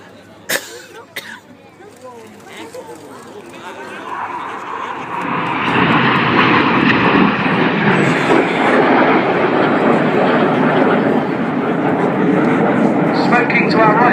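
Red Arrows Hawk jets flying an aerobatic display at the RAF Cosford Airshow, a loud roar that builds from faint to a sustained close rumble, while an announcer talks and a cough is heard early on.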